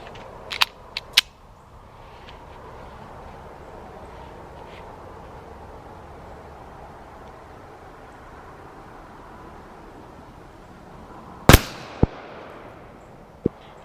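A Taurus Spectrum pocket pistol fired outdoors at a 50-yard target: a few sharp cracks early, then a long stretch of low steady background noise before another loud shot and two smaller snaps near the end.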